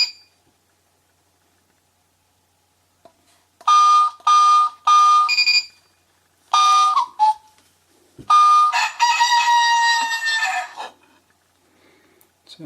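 A rooster-call alarm clock rings out loud and close. Bursts of electronic crowing and beeps come in several short pulses and end in one longer crow, with silence before them.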